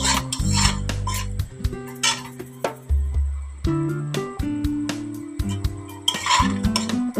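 Whole spices (dry chilli, cinnamon, a bay leaf and a cardamom) going into a kadai for a paneer dish, with repeated clinks and scrapes of a utensil against the pan, close and moderately loud, no talking.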